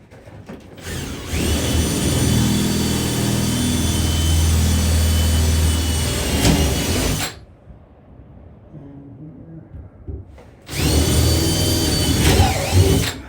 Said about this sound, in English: Drilling some portholes here.